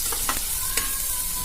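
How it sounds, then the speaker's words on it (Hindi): Tomatoes cook in a hot pan with a continuous dense sizzle and a few quick stirring scrapes near the start, close and fairly loud, with no one speaking. "अभी इसके अंदर हम लोग टोमेटो को डाल देंगे और धीरे धीरे इसको पकाएंगे।"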